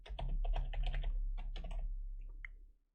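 Typing on a computer keyboard while coding in JavaScript, a close quick burst of key clicks in uneven clusters that slows to a few scattered taps at the end, with no voice over it.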